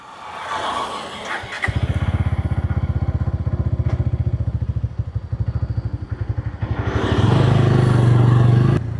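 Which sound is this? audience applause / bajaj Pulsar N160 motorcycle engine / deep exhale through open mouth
bajaj Pulsar N160 motorcycle engine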